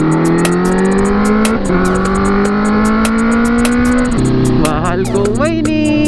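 Honda CB1000R motorcycle engine revving during a ride near Kaybiang Tunnel, a loud, close, continuous drone that climbs in pitch, dips and climbs again with gear changes, with sharp clicking ticks over it.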